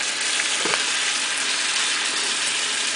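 Homemade salmon sizzles steadily in a hot pan while being flipped, a dense, loud crackling hiss with a brief clatter near the start.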